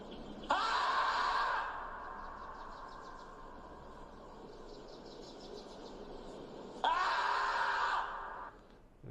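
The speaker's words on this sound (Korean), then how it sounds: "그리고 비명 소리" Two loud, sustained screaming bursts are played to a safety monitoring detector, the first near the start and the second near the end, with a quieter, noisy gap between them.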